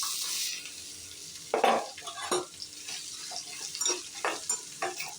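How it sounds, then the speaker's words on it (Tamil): Onion and garlic frying with coriander in a pan, a steady bright sizzle with intermittent scraping stirs and light utensil clinks against the pan. "இப்போ அந்த சவு ஒரு மீடியம் சைஸ் பெரிய வெங்காயம், 2 பல்லு பூண்டு, இதை அது கூட போட்டுரும்."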